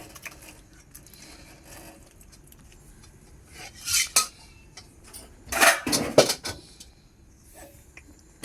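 A spoon scrapes and clinks against a pot while chicken curry with meat and potatoes is stirred after garam masala is added. Quiet scraping at first, then bursts of louder metallic clatter near the end.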